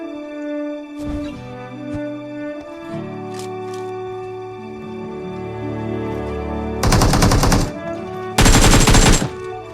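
Groza assault rifle gunfire in a shooter video game, two loud automatic bursts near the end over a droning, tonal game background with a few earlier thuds.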